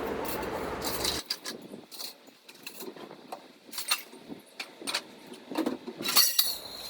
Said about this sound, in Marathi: आता भांडी लावून घेते पटापटा